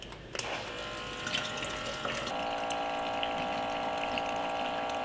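Small battery-powered spout pumping water into a jug, a steady motorized whir with liquid streaming and filling continuously after a click at the start, close and fairly loud.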